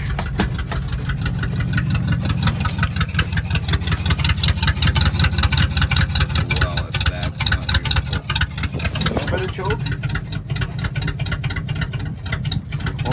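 A 1958 Viking 40 outboard motor idles after being restarted, running with a steady, rough, rapid pulsing chug at close range, alone throughout without talking.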